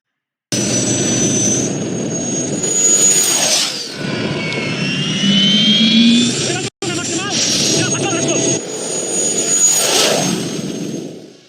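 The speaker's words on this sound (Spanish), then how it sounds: "una bici de 400 caballos de fuerza con un motor de helicóptero" A 400-horsepower motorcycle fitted with a helicopter engine runs with a steady, loud turbine roar and high whine, holding for about eleven seconds with a brief cut partway through.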